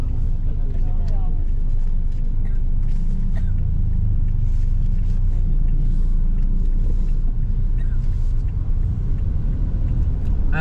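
Motorcycle engines rumble steadily through a flooded street after a typhoon in Cebu, with a constant loud low drone and water swishing, while people talk throughout.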